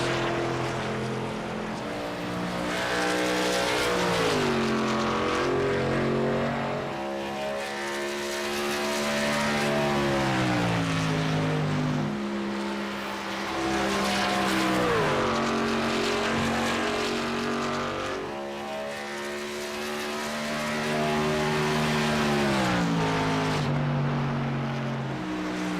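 A race car in a VSpeed Contender Series event runs a lap. Its loud engine note rises and falls repeatedly as it passes through corners and straights, with a steady roar throughout and no voices.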